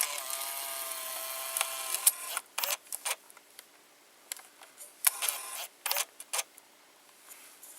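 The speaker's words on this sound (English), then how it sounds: "when you press eject while it's already ejected, you can see the motor turns a little bit to like push it out" Small motor in a Sanyo 8mm camcorder whirring briefly as the eject mechanism pushes out the tape, heard as short bursts of mechanical clicks and whirs between quiet pauses, close and fairly faint.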